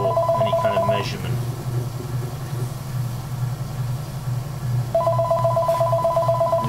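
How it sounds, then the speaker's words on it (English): An old telephone rings indoors in a pottery workshop, a steady electronic trill in two bursts with a pause between, over a low constant hum. "The old phone again."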